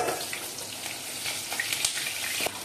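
Fish heads fry in hot oil for moong dal, a constant crackling sizzle with occasional sharper pops and spits, close and moderately loud.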